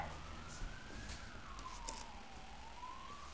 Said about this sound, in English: Let the ambulance pass.